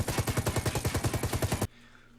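An MG121 light machine gun fires a fast, steady burst of about fourteen evenly spaced rounds in the shooter game Ghost War, loud and close, then cuts off abruptly into quiet.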